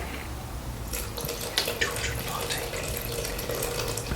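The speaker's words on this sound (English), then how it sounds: "we're going to add 240 grams of warm water again" Warm water pours from a tap into a bowl while a sourdough tin loaf is being mixed, a steady running and splashing stream that picks up around the one-second mark and continues to the end.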